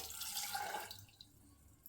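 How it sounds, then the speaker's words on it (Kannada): Water runs briefly into a pressure cooker holding chickpeas, a soft pouring splash that fades after about a second, with a small knock at the end. "ಸ್ವಲ್ಪ ನೀರು ಸೇರಿಸ್ಕೊಳ್ಳೋಣ"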